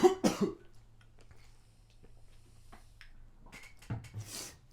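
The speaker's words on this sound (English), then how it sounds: "I'm having all these coughs" A few close coughs and throat clearing at the start, then quiet shuffling, with a couple more small coughs near the end.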